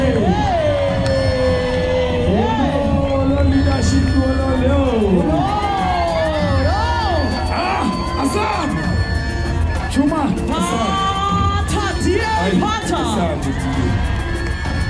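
Cheering, whooping and crowd noise fill a large rally hall at the DA manifesto launch in South Africa, loud and sustained throughout, with shouted voices and whistles over the roar.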